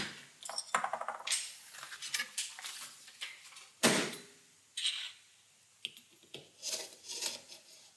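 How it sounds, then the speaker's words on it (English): An Ikea Vörda santoku knife chops bottle caps on a wooden board, giving sharp, irregular metallic cracks and thuds, close and crisp, with short gaps of quiet between clusters of strikes. "Yeah, I'm going to chop it a few bottle caps."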